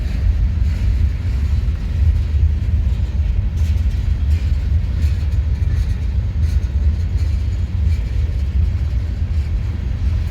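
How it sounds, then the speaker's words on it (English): An eastbound BNSF double-stack freight train rolls past near Barstow on the Needles Sub, a steady heavy rumble with rail noise held at even loudness throughout, no voices. "There's an eastbound BSF stacker."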